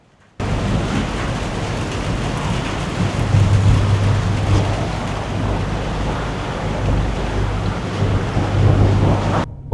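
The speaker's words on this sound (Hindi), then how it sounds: "और अभी बारिश स्टार्ट हो गई है।" Rain falls at a ferry platform, a steady dense hiss mixed with wind buffeting, holding at a constant level for several seconds with no voices.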